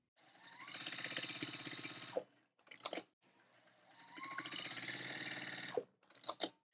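Sewing machine stitching small fabric squares onto a larger quilt block, running in two long steady bursts of rapid mechanical chatter, each ending with brief handling clicks, close and moderately quiet.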